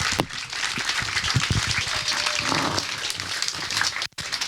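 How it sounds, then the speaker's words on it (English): Outdoor crowd applause at an aquatic center grand opening, a moderate wash of clapping from a mid-sized audience, slightly distant and fairly even before trailing off near the end. "So give them a round of applause."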